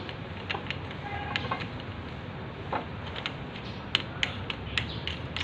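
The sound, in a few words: tightening a fitting on a stainless sink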